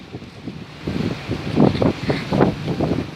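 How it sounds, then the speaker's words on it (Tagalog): Strong typhoon wind gusts outdoors during a storm, swelling into louder rushing bursts over a constant roar, with no voices. "Tingnan nyo naman yung lakas ng hangin."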